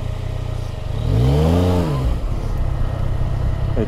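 Motorcycle engine revving during slow-speed clutch and balance practice, a steady idle that swells into one rising and falling rev, then settles back, close and loud with no talk.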